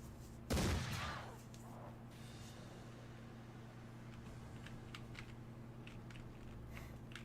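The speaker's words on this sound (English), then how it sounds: "Just shooting from afar." A single loud gunshot cracks near the start of a Mordheim: City of the Damned battle, then fades over a steady hum with faint scattered clicks and no further shots.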